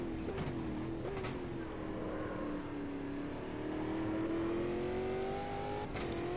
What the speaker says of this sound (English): that was a lap on Bathurst in the 2020 stock cars